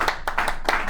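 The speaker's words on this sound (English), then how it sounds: "everyone give him a round of applause" Scattered hand claps from a small audience in a university engineering crash-course lecture, a handful of sharp distinct claps in a quick, uneven rhythm, moderately close.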